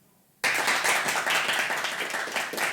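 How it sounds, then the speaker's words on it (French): A theatre audience applauds to cast a vote for a story in a comedy show, breaking in suddenly after quiet and holding a dense, loud, steady clatter of many hands to the end. "Si vous votez pour cette histoire, messieurs, dames, applaudissez."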